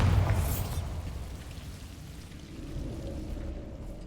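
In a wizarding video game, a blasting spell explodes with a loud low burst at the start, then a crackling, rain-like rumble of debris that fades slightly and swells again, no speech.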